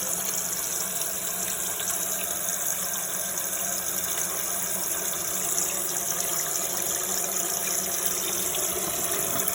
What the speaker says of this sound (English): Water is coming out of there, filling the tank up.